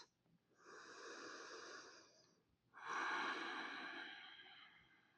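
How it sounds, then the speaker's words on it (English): Heavy breathing during a foam rolling exercise for the hamstrings and adductors, two long close exhalations or breaths separated by a brief pause, the second louder, with no talk. "Breathing."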